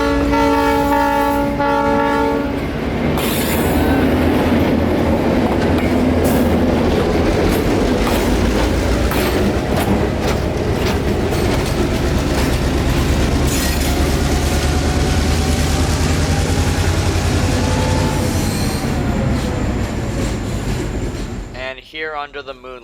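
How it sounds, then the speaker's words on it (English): CF7 locomotive number 204 running at night, heading north past Dickey Road: a continuous loud engine roar and rumble with horn-like tones early on, steady throughout before fading at the end. "So this would be our last shot as the train heads north into the night."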